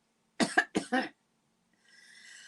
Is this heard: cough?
yes